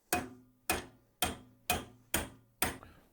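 Six evenly spaced, sharp metallic hammer blows strike a socket, driving a rubber bushing into a Subaru part, each hit ringing briefly, close and loud.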